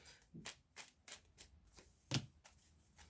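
A deck of cards being shuffled: a run of crisp riffling bursts repeating at a steady rhythm, with one sharper snap near the end, close and fairly quiet, with no voices.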